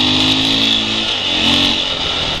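Husqvarna 701 Enduro motorcycle engine pulling steadily in a high gear along a narrow road, a continuous close drone with strong wind rush and no pauses.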